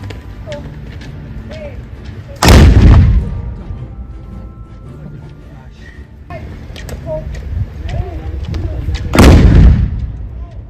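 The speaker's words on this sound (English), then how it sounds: "We were there for the trial firing of the cannons." Two heavy cannon blasts from a trial firing of a salute in Denmark, roughly seven seconds apart, each a loud booming report with a rumbling tail, over a murmur of background crowd noise.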